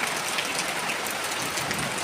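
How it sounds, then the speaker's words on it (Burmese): Heavy rain falls in Yangon, a dense, continuous hiss of drops drumming on surfaces, loud and unbroken throughout with no talking. "ရန်ကုန်မှာမိုးရွာတာဒီမှာလာကြည့်ပေးတော့"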